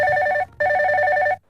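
A telephone ringing for a caller to a live radio phone-in music programme: two loud, close electronic trills with a brief gap between them, and no voices.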